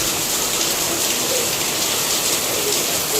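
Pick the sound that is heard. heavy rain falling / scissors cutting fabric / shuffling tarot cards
heavy rain falling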